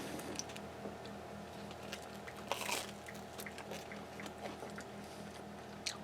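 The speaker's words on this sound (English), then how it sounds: "Bread is crunchy." Crisp crunching bites into crusty garlic-butter meatball pizza bread, a few sharp crackles amid quiet chewing close to the mic, with low background hum.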